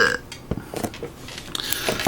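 A voice imitates a burp for a Killer Croc action figure with an opening mouth, giving a short gurgling belch near the mic, with a few quieter throaty bursts after it.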